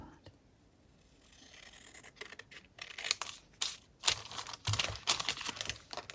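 Crisp snipping and crinkling of folded waxed paper being cut with scissors, a run of short scratchy bursts close by that grows busier over several seconds.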